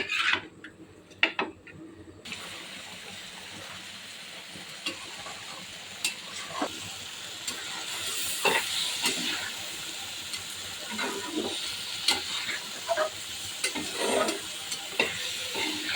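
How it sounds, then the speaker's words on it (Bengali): Ginger and garlic paste, cumin, turmeric, salt, onion, green chilli and tomato stir-fried in a pan: a continuous close sizzle with repeated scraping strokes of a spatula and no talking. "কাঁচামরিচ টমেটো ভালো করে কষিয়ে নেব"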